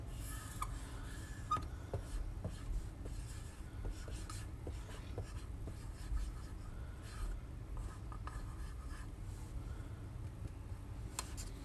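A child writing the word "shelf" on paper, a soft, continuous scratching of the writing tool with occasional light taps over a low background hum.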